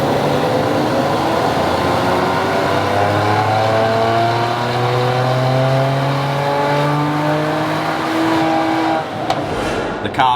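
A stage 2 tuned 2019 Mercedes C43 AMG runs up loudly on a dyno, its engine note climbing steadily through the gears in a long, continuous pull before easing off near the end.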